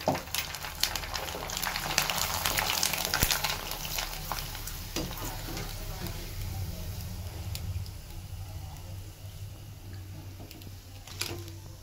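Sabudana papad fry in hot oil with a steady crackling sizzle, joined by occasional stirring clicks and taps, close by and moderately loud.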